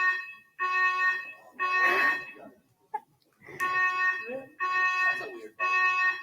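Fire alarm sounding during a talk on machine learning at the edge, loud repeated tonal beeping bursts with short gaps, while a person speaks between and over the blasts.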